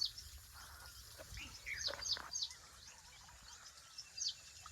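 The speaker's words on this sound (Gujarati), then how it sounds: "देखो ચકલો है." A sparrow chirps a few short, bright notes at a farm on a quiet morning, faint and somewhat distant, scattered across the moment with a soft background hush.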